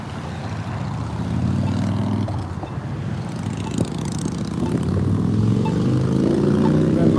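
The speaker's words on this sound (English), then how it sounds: "That motorcycle's getting loud right now." A loud motorcycle engine drones past on a street, its rumble rising steadily and growing louder toward the end.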